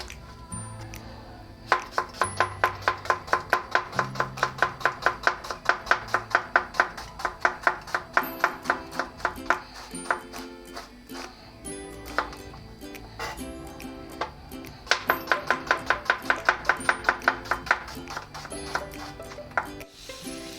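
A knife rapidly chopping a medium-sized onion on a board, with long runs of quick, even taps separated by brief pauses, close and loud, with no talk over it.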